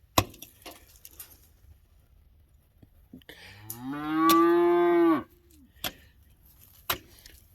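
A neighbouring cow gives one long, loud, drawn-out moo from nearby in a garden, rising and holding for about a second and a half, framed by scattered wooden knocks and clicks in an otherwise quiet yard.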